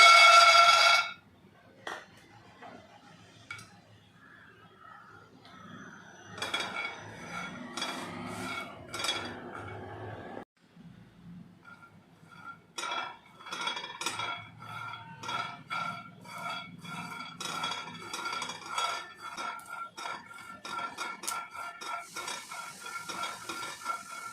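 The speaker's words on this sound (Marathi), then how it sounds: "इकडे मी पॅन त्याच पॅनमध्ये आता शेंगदाणे भाजून घेत आहे" Peanuts are dry-roasted in the same pan used for the jaggery, with scraping, stirring and rattling of nuts against the metal that come in irregular clusters, close and moderately loud, with quiet gaps between.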